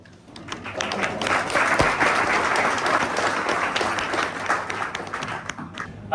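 Lively applause from a pub audience at an evening political talk, building quickly and holding as a full, close patter of many clapping hands, with a brief stray noise at the very end.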